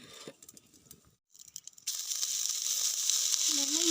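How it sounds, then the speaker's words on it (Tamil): Flying termites hit a hot pan on a stove and burst into a loud, steady sizzle that holds to the end after a few quiet clicks and rustles. "இப்போ அடுப்பில் சட்டியை வச்சு வறுத்துக்கலாம்."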